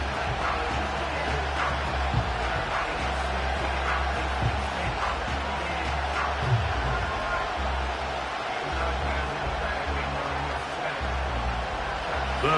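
A large stadium crowd at a Steelers–Broncos NFL game roars steadily, the noise swelling ahead of a third down and holding at a dense, loud level throughout without letting up.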